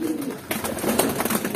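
Pigeons coo softly and repeatedly nearby, low throaty calls over a steady background hum.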